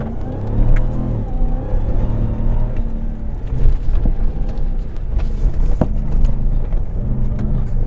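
A RAM TRX truck with its rear axle locked accelerates hard on a Baja rally cross run, its engine roaring loudly and steadily with a rising, throaty drone close to the listener.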